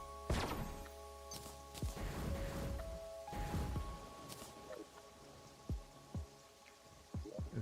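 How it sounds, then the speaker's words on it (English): Rain falls in the Terraria Calamity mod, heard as scattered pattering drops and soft thunks of varying loudness, with faint steady game tones humming underneath. "It'd be nice if it wasn't raining as well."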